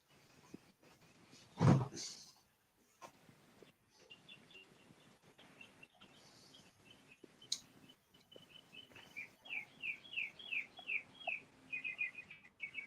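Birds chirping outdoors, a quick run of small repeated tweets building toward the end, fairly faint, with a single louder knock early on.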